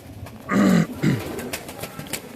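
A male Pilanka pigeon, one of a pair, gives two close, deep coos, a longer one followed by a shorter one, in a quiet room with no talking.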